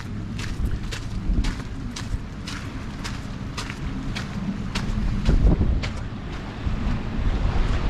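Wind gusts and lapping waves along the waterfront at the Maine State Ferry Dock in Bass Harbor, a steady low rumble of wind buffeting close by with regular faint splashes repeating every half second or so.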